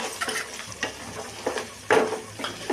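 Stirring in a frying pan while making chicken chukka fry: a spoon repeatedly scrapes and clinks against the pan in irregular strokes over a soft sizzle, close up and with no talking.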